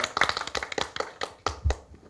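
Scattered, uneven hand claps from a small audience at a Suwon youth environmental forum welcoming a professor, a dozen or so distinct claps fading in and out.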